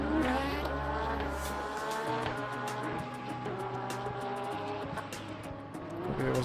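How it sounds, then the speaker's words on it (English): An LMP2 prototype race car closes in on track at Silverstone, its engine note rising through gear changes heard from inside another race car whose own engine drones loudly underneath; no talking. "There's an LMP2 coming."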